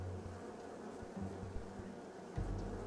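Angry bees swarm from a knocked-over hive in the World of Aria video game, a dense continuous buzzing drone with low hum throbs, steady and fairly faint, with no voices.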